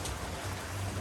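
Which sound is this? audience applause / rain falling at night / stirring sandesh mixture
rain falling at night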